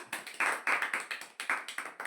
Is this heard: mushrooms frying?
no